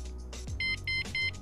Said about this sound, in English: And now it's alarm protected.